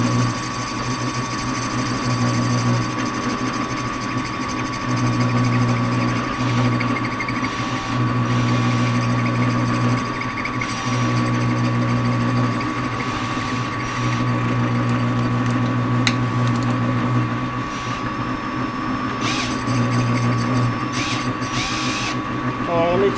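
A metal lathe taking light spring passes on a pulley spacer, a steady motor hum with a sustained whine and periodic cutting changes in tone, close and continuous while someone talks over it.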